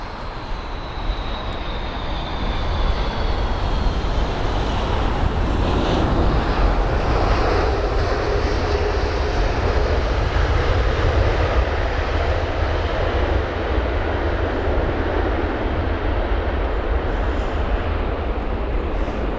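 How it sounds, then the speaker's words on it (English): A Delta Airbus A330-300 lands at London Heathrow, a loud, steady jet engine roar that holds close for many seconds, with a faint high whine early on and no talk. "you can see the nose right the way up for that Delta A330-300, and the definitely provided a very nice and smooth landing"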